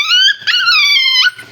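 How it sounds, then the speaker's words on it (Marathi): Small tick-infested puppy giving high, drawn-out whimpering yips, two loud close cries in quick succession with no talking. "इतकं छोटं पिल्लू आहे."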